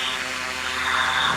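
A drone in the video game Ninja's Creed gives off a brief, steady whirring hum, like a small aircraft rotor, heard alone and fairly loud.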